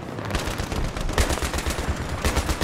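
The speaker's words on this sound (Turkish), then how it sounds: "Ya o makine tüfeği ben indireceğim ya" Sustained machine gun fire in Battlefield 3, a dense stream of rapid, loud shots with a steady rhythm across the whole stretch, with no voices over it.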